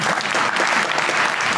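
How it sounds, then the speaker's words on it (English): An audience at a conference session on European anti-Semitism claps loudly and steadily in a short, dense burst of applause. "if you get clapped that easily here, I might speak more"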